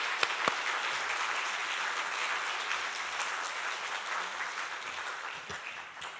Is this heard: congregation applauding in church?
yes